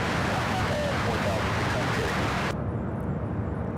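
Broadband roar of an MD-11 building power on its takeoff roll at Louisville International Airport, steady and loud, then suddenly muffled as the high end drops away.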